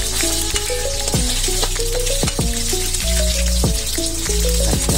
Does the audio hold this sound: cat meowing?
no